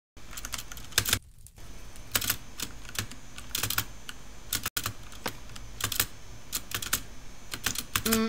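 Keys pressed on a computer keyboard during Minecraft play, giving a steady run of close, crisp clicks with a few brief pauses and no talk.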